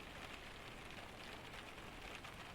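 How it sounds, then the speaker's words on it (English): Wind-driven rain pounds against a cabin roof and window during a Scandinavian storm, a dense, steady hiss of drops, faint and unbroken with no voices. "The rain intensifies briefly. A sudden surge, as if a stronger gust of wind has swept through the forest and pushed the rain sideways"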